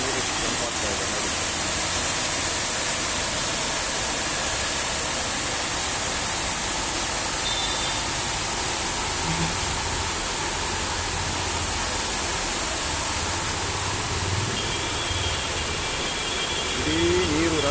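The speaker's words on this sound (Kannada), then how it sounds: "ನೀರು ಜಂಪ್ ಆಗ್ತಾ ಇದೆ ನೋಡಿ" Water gushing loudly from a collapsed, burst water pipeline beside electrical wires and spilling onto the road, a dense, constant roaring rush heard close up and unbroken for the whole stretch, with no clear speech.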